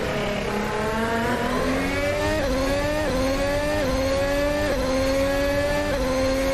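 Race car engine from the sim game Assetto Corsa on the 2022 Miami Grand Prix circuit, revving loudly and steadily with repeated upshifts as it accelerates, each gear rising in pitch before dropping, with no voices over it.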